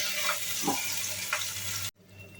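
Spinach paste blended for a palak matar curry sizzles steadily in hot oil with a bay leaf, a continuous close frying hiss that cuts off abruptly near the end.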